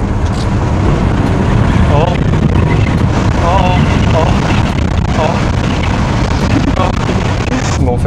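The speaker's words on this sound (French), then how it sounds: "Écoute les turbos." The turbocharged engine of an Audi Q7 e-tron hybrid with 373 horsepower pulls hard under acceleration, a loud, steady engine roar mixed with road and wind noise from inside the cabin, with someone talking over it.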